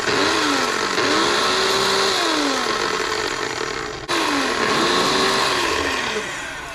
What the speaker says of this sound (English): Now we're gonna grind this all up.